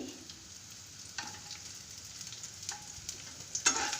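Garlic frying in a pan until brownish, a quiet steady sizzle broken by several sharp stirring scrapes and spatula knocks, the last near the end louder than the rest.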